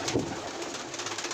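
Pigeons coo close by in a loft as they are let out to feed: a soft, throaty, repeated cooing that rolls on steadily for the full moment, with no one speaking.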